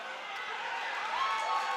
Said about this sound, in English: Crowd's getting a little wild.